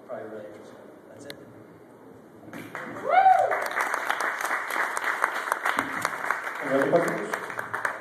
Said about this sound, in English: let's give one more round. Round of applause, please, guys.